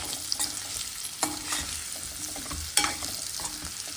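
Sweet potato pieces stir-fry in a pan, a steady close sizzle broken by a few sharp scraping stirs of the utensil, with no talk.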